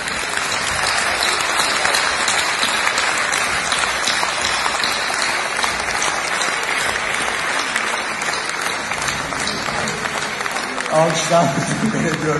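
An audience breaks into sustained applause, a dense, loud and continuous patter of many hands clapping that holds steady throughout with a slight lift near the end.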